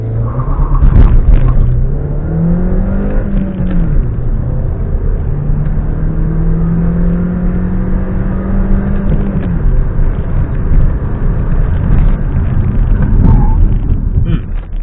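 Seat Ateca on brand-new Michelin tyres driven hard, engine revving up and down through gears with rising and falling pitch, close and loud from the cabin, with brief tyre noise over the road rumble.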